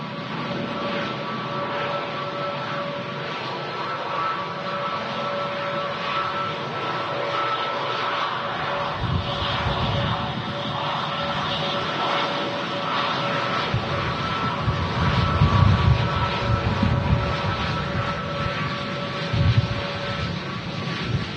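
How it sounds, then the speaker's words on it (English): Twin Pratt & Whitney 1100G engines on an Airbus A321neo at Manchester Airport give a steady, loud howling drone with sustained whining tones, swelling slightly toward the end, with some wind rumble. "A321neo with a twin set of Pratt & Whitney engines. They love to howl."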